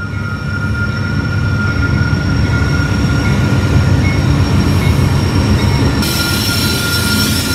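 A freight train rolls past near the border wall in Nogales, Arizona, a loud continuous rumble of wheels on rails with faint squeals, close and steady throughout.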